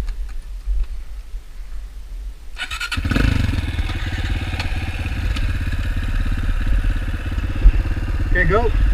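Honda CRF 230 or Yamaha TTR 230 dirt bike engine starting up after a brief quiet stretch, then running and revving steadily nearby for several seconds, with people talking around it.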